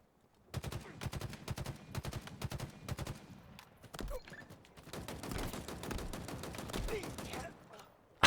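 Gunfire in Halo Infinite, a fast, steady stream of sharp, close shots that fires in long bursts with a brief pause in the middle. It sounds loud and mechanical, with faint voice chatter underneath.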